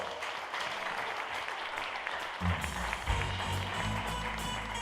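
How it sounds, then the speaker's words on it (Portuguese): A church congregation at a celebration service applauds steadily, many hands clapping in a dense, continuous patter that carries on throughout, with a low rumble joining partway through. "Se você pode, dê um aplauso ao Senhor."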